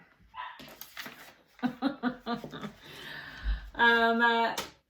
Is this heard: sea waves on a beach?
no